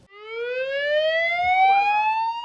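A brand-new ambulance siren from the Pétionville town hall in Haiti, a single loud rising wail that climbs steadily in pitch and holds strong throughout, heard alone with no talk.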